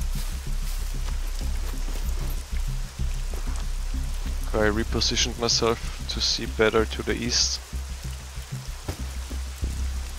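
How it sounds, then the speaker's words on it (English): Heavy rain in the survival game SCUM, a steady broadband downpour hiss running through the whole stretch while someone talks over it midway. "It's a fucking heavy rain."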